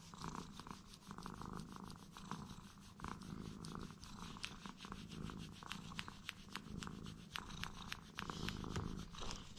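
A cat purrs steadily and close up while being scratched on the neck, a continuous rumbling purr with rhythmic breathing pulses running throughout, loud and alone with no talking.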